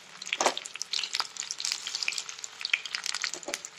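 Sweet corn pakoras fry in a small kadai of hot oil, a close, crisp sizzle with bubbling crackles and bursts rising and falling throughout, without any talking.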